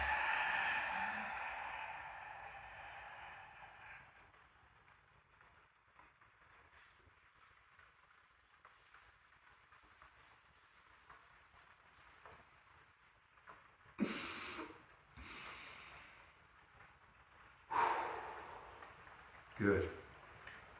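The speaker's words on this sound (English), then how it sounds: "And you're trying to do a deep breath to repressurize the system." Deep, breathy exhales during breath work, with a long airy breath at the start and several shorter, louder puffs of exhaled air near the end, spaced a few seconds apart.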